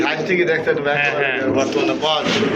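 A breeding pair of quality pigeons coo in soft, rolling calls close by, heard under steady talking.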